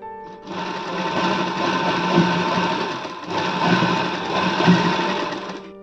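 A sewing machine runs steadily while stitching a princess-cut blouse, a loud close mechanical whir that pauses briefly midway and then resumes.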